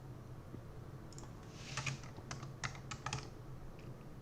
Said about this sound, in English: we're going to type in game object